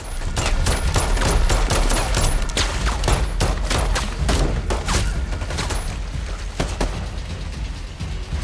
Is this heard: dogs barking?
no